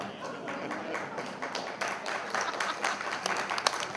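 Audience clapping at a live award night for TV and film stars, a short, moderately loud patter of scattered hand claps that stays fairly even throughout.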